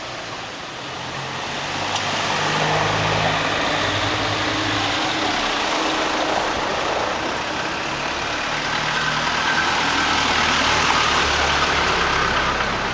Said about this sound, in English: You see, more vehicles coming by.